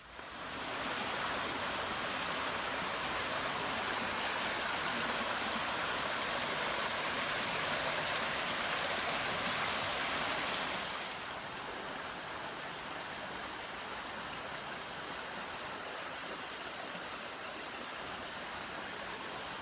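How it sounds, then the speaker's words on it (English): A river flowing outdoors, a steady broad rush of water that stays loud and close for about eleven seconds, then drops to a softer, more even flow for the rest, with no talk. "Well, I reached the river."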